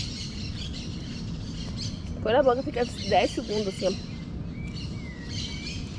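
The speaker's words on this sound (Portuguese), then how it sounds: "Olha lá um passarinho" A small bird chirps faintly in the background with a few thin, brief calls and a short whistled sweep. People talk nearby over it.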